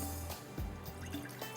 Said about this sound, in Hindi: इसमें डालेंगे पानी, ठीक है, यहाँ पर आपने पानी डालना है।